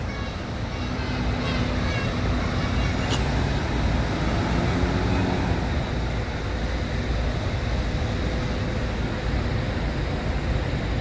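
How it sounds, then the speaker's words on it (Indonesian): A pink Indo Trans bus pulls out of a busy terminal at night, its engine and traffic forming a dense rumble while a sharp air-brake hiss bursts out midway and voices talk underneath. "Ini ada bus Indo Trans ya, warna pink JB."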